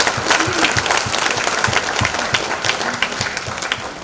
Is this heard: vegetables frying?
no